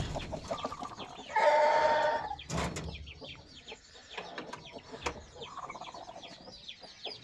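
A hen that hatched chicks two or three days ago clucks among other farmyard fowl, with a loud burst of calling midway and scattered softer clucks and peeps around it at moderate distance.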